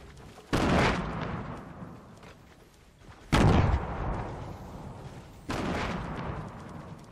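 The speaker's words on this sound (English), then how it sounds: "I'm gonna launch a nade." A grenade launched in a shooter video game, heard as three loud, close blasts spaced a few seconds apart, each a sharp burst that fades into a rumbling tail, with no talk over them.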